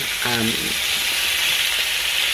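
Breakfast sausage patties fry in a pan with a steady, bright sizzle that carries on evenly and close, and a voice briefly sounds near the start.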